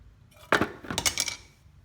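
Brake caliper coming off an Oldsmobile Cutlass during a brake job, giving a sudden metallic clank followed by a cluster of light clinks and rattles, close and brief.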